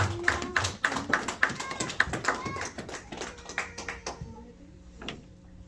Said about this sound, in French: Applaudissez là, s'il vous plaît.